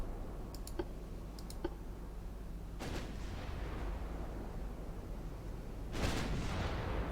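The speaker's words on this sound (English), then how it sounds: "more big guns going out." Big naval guns booming far off in Ultimate Admiral Dreadnoughts during a British 1900 campaign, two heavy muffled salvos that roll away over a low background with faint mouse clicks.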